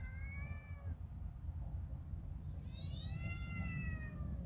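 A cat outdoors meows twice at bugs, a short mew followed by a longer, rising cry, over a steady rushing background of wind or outdoor noise.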